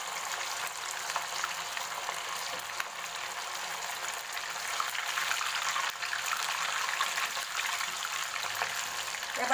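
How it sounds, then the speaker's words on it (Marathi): Batti dough balls fry in hot oil for a Khandeshi varan batti meal, a steady close bubbling sizzle that holds constant and grows slightly louder toward the end, with no speech. "आता आपण बट्ट्या तळून घेऊया।"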